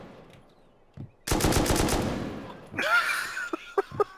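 Automatic gunfire in the video game Rust bursts out as a fast, loud volley of rapid shots, followed by a few scattered single cracks, with players talking in German around it.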